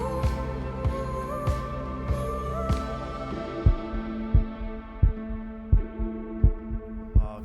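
Steady heartbeat sound effect with deep, regular thumping pulses that grow more pronounced and evenly spaced over a low droning hum, with no voices.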